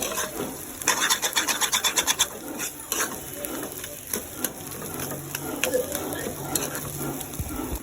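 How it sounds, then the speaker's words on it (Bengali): Mashed potato (aloo bhorta) being stirred and tempered with hot oil in a pan, giving rough rasping scrapes in quick bursts, strongest early on, over a soft continuous sizzle. "ভর্তাটা বাগার দিচ্ছি"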